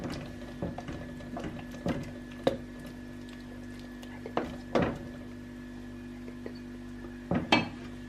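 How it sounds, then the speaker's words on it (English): A spoon stirs a bean and pepper stew in a pot, giving scattered clinks and scrapes against the metal at an irregular pace over a low steady hum, close by with no talk. "now we're going to stir it all in."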